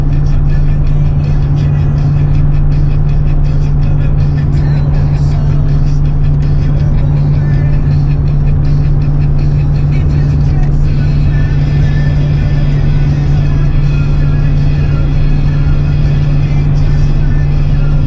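A 24-year-old 8.1-litre gas V8 truck pulls 18,000 pounds uphill in 4th gear near 3000 RPM, a loud, steady, droning engine hum with a strong constant tone that holds throughout.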